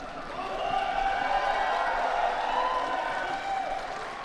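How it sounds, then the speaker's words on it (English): Judo crowd at the Hohhot Grand Prix cheering a penalty, a broad, sustained arena roar of voices with scattered clapping, steady for several seconds. "They even cheered the penalty"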